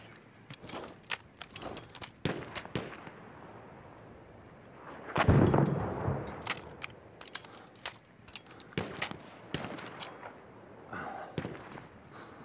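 Sniper rifle gunfire in the Battlefield 1 game: scattered sharp shots crack out over a rumbling battlefield, with one heavy booming blast near the middle and more distant reports following.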